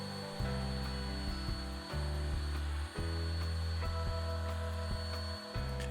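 A router with a 1/16 inch roundover bit rounds the edges of wooden dominoes, a close, steady tonal whine broken by short dips as each edge pass ends and the next begins.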